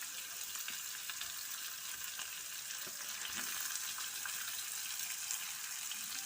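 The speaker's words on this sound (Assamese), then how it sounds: "এইখিনি মই ভাজি লওঁ।" Onions and green chillies sizzle steadily in hot mustard oil, a continuous close frying hiss with faint stirring clinks throughout and no talking.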